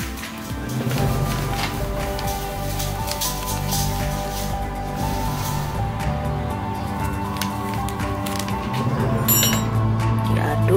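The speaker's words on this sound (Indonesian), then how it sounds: "diaduk sampai rata." Batter for fried milk bread being stirred in a bowl, a continuous wet squishing with light clinks of the utensil against the side.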